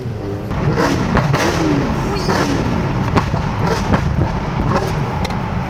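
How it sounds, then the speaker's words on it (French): A car engine runs with a steady low rumble and occasional revs, close by and fairly loud, with no one speaking. "la voiture, elle ronronne"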